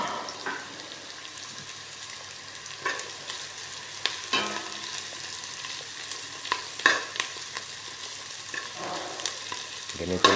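Garlic fries in a pan while shrimp is cooked, a constant crackling sizzle with irregular clinks and scrapes of a spatula stirring, close and moderately loud, with no talk.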